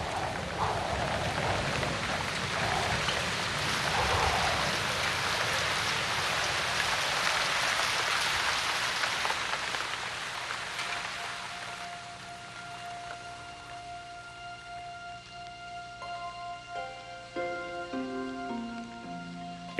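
Heavy jungle rainstorm pours down loudly in a Mayan forest for about ten seconds, then fades as soft, sustained musical tones take over and climb through a gentle melody.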